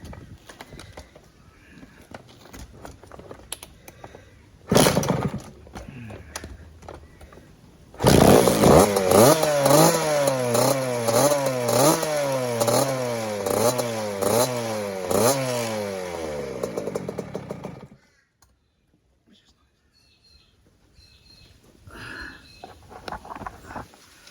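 A Kawasaki KX60 dirt bike with a freshly filled float bowl is kicked over a few times, then its small two-stroke engine catches and runs loud and close, revving up and down in waves for about ten seconds before cutting off.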